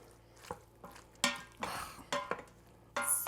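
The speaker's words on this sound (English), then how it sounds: "Stir that in." Spoon scraping and clinking in a pot while milk is stirred into instant pot mac and cheese, several separate close stirring strokes with short pauses.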